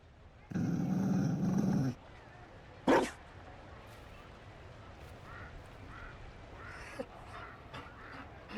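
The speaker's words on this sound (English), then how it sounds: "You found a dog? They don't breed Mabari in Olay." A Mabari war dog in Dragon Age: Inquisition gives a single short bark at the Winter Palace, following a loud muffled burst, with faint scattered sounds and murmuring afterward.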